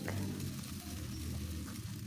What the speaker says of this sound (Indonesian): Panaskan 3 sendok makan minyak, masukkan 2 butir telur yang sudah dikocok.